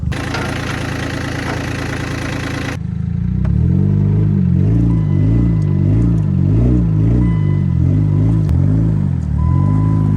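A heavy tractor engine idles and rumbles steadily nearby beside a swamp, with a deep repeating chug that swells slightly partway through, after a brief burst of louder mechanical noise.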